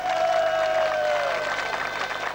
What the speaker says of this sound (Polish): Duże brawa!